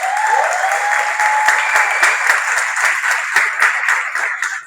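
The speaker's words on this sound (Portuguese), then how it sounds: "Salva de palmas." Audience at a closing event breaks into warm, sustained applause, dense clapping from many hands that stays loud and even for several seconds.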